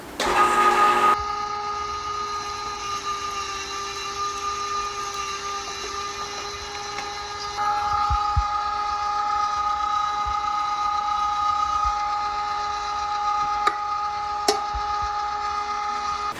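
Electric meat grinder running steadily while grinding venison mixed with fat, a constant whining motor hum with tonal drone, louder for a moment at the start and after about eight seconds, with a few small clicks.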